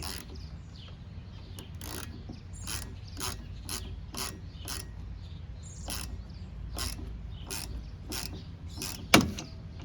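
A 2-jaw puller is cranked to free a front wiper arm on a 2010 Buick Enclave, GMC Acadia or Chevy Traverse, giving a regular series of close ratcheting clicks and ending in a sharp crack as it pops loose.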